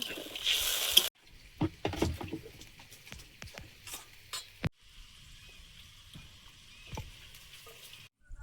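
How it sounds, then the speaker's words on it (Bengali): Curry gravy with turmeric, salt and slit green chillies bubbling and frying in a pot for tengra fish with brinjal, a steady close sizzle with occasional clinks and stirring knocks. "ঝোলটা ফুটছে"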